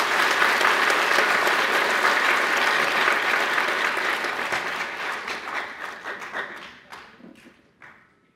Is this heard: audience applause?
yes